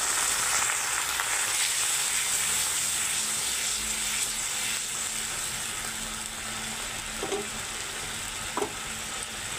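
Ginger-garlic spice paste sizzles in a pan after a splash of water is added, giving a steady, even hiss with faint stirring scrapes throughout.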